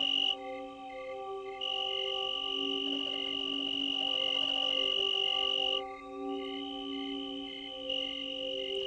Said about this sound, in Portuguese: Grilos arborícolas, por exemplo, em geral são muito barulhentos, principalmente para criaturas tão pequenas